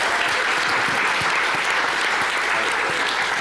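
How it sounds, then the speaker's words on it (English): An audience at a GopherCon EU game show applauds in a steady, dense wash of clapping that continues unbroken throughout. "Round of applause for them, please."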